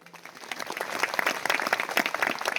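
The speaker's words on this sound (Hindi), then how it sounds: "ताली बजाओ भाई।" Applause from an audience gathered at a spiritual talk, steady dense clapping that swells from quiet to fuller and keeps going to the end, with no voices over it.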